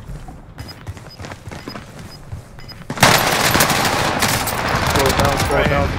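Automatic gunfire in a Call of Duty match, sparse shots at first and then a dense, loud burst of rapid machine-gun fire, with players talking over it.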